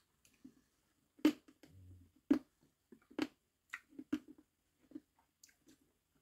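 Close, crunchy chewing of a lime-flavoured snack, a series of sharp bites and crunches spaced irregularly, with a soft low hum from the mouth between them.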